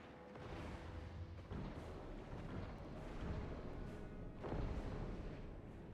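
Grenade kit explosions boom in Guild Wars 2 as a Charr engineer fights, giving repeated dull thumps and rumbling blasts about every second or two over a steady background of battle noise, faint overall.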